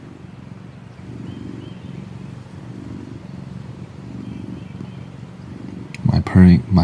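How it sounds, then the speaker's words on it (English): A pet cat purrs close up in a low, steady, rumbling rhythm for several seconds, then a louder burst of voice and handling noise breaks in at the end. "My purring machine."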